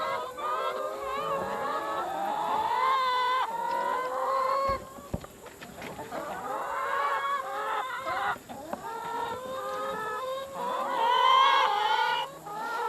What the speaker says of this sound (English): now they're acting like chickens.